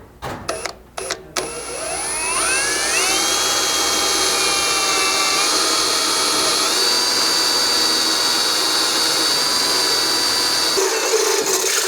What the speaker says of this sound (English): when drilling through these frames